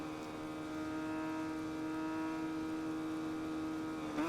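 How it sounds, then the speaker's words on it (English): A Yamaha racing engine roars loudly and steadily on track, its strong harmonic whine holding near one pitch for several seconds before a brief rise at the end, close and alone with no talk. "Let's hear the roar of that Yamaha then as we head to Coram."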